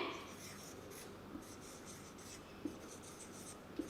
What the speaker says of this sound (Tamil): மூன்றாவது நான் ஒன்று எழுதுகிறேன்